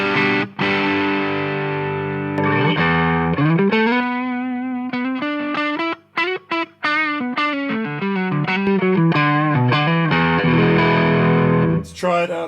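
Distorted electric guitar played through a load box with a miked 1x12 cabinet, the two signals phase-aligned, giving sustained chords and a string of quick single notes, loud and full, with no talk over it.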